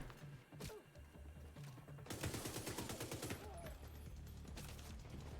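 Rapid bursts of automatic gunfire crackle in The Division 2, a quiet opening giving way to dense rattling volleys and repeated shots over a low game backdrop, with a voice faintly present.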